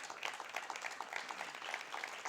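An awards-ceremony audience applauds the MC with steady, dense clapping that holds at an even level throughout, the many hands blending into a continuous wash.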